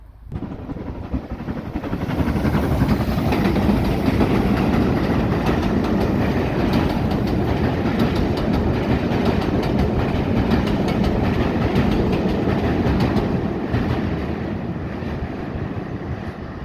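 The train known as the Harry Potter train rumbles past loudly on the Great Glen Way in Scotland, with a steady roar and rattling wheels, swelling in quickly, holding for several seconds, then easing off as it moves away.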